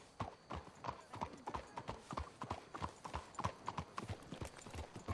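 Horse hooves clip-clopping in the Red Dead Redemption 2 video game, a fast, steady stream of clear hoof beats at moderate distance, with a faint voice under them.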